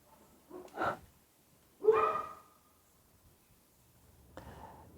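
Dogs bark in a few separate bursts, one sharp yip followed by a longer, louder bark and a fainter one later, with quiet gaps between.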